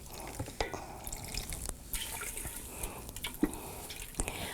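Copper-dyed wool yarn rinsed by hand in water makes soft drips, splashes and wet squelches in uneven bursts, quiet and close, with no voices.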